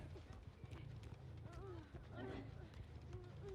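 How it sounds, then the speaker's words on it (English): Footsteps approach in the Dead by Daylight video game, a run of soft, irregular thuds, like clip-clopping, mixed with muffled game sounds and faint voices in the background. "Someone's coming for save. I heard footsteps."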